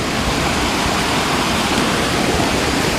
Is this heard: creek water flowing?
yes